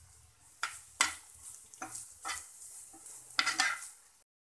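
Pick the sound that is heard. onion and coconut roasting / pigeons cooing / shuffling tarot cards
onion and coconut roasting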